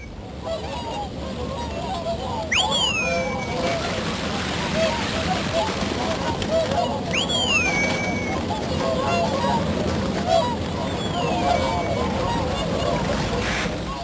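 Hundreds of Bewick's and whooper swans on the winter washes give a constant chorus of honking and bugling calls, with a few louder nearby whoops rising above the distant flock.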